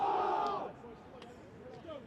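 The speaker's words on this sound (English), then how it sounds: "a cheer goes up from Rugby as they perhaps just look to raise the energy levels once more" At a Rugby School versus Cheltenham College rugby match, a brief shout goes up from the crowd and quickly fades, moderately distant and fairly faint.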